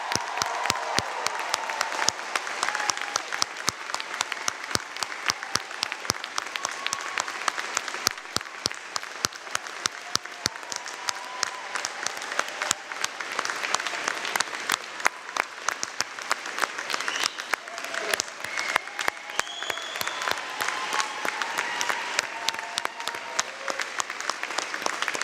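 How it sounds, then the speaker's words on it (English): Sustained applause from a large audience at a fall university convocation ceremony for the graduating class, dense and even clapping that carries on for the full stretch without a break. "please join me in applauding the graduating class of Fall 2021"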